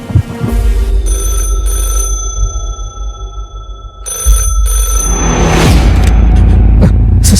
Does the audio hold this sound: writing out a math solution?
no